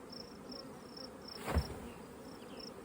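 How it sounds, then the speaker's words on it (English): Honey bees hum faintly around a hive in a steady, quiet buzz, with one louder pass drifting close by midway through. "So many bees."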